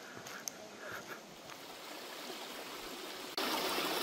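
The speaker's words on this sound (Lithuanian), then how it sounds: "Nu, nedaug vandenėlio teka." A small stream of water flowing along a mountain trail near the Kalidonia waterfall in Cyprus, a faint continuous trickle that grows abruptly louder and fuller near the end.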